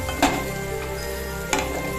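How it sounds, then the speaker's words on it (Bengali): Potatoes fry in hot oil in a nonstick wok, giving a continuous close sizzle with two brief louder clatters or stirring bumps. "আলুটা ভেজে নেব"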